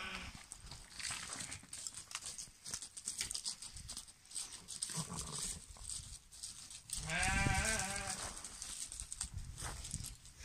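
Rams mixed into a flock of sheep bleat in wavering cries, one strong close bleat standing out near the end over faint hoof shuffling and rustling.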